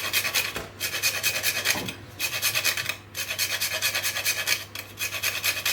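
A whole nutmeg is rasped against a grater for pumpkin puree baking. The scraping strokes are close and rhythmic, each lasting about a second, with short pauses between bursts and no voices.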